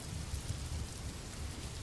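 Steady rain falling at night as an ambient background, a dense continuous hiss with a soft low rumble underneath, even and unbroken with no voices.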